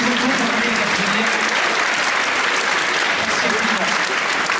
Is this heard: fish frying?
no